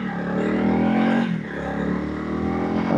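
A 2025 Honda CRF300 Rally motorcycle rides along a straight road at about 35 mph, its engine droning loudly and close, dipping briefly as the front brake is applied before picking up again.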